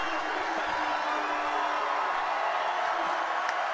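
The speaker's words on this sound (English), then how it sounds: "Listen to this crowd go at Mile 1 Center." A basketball crowd at Mile One Centre in St. John's roars steadily through a St. John's Edge home game against the Sudbury Five, a dense, sustained wash of cheering and whooping at moderate distance.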